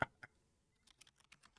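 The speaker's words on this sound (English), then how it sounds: "I type Santa in" Quiet keystrokes on a computer keyboard at a day-trading desk: two quick taps, a pause, then a short burst of light, rapid clicks, close and faint.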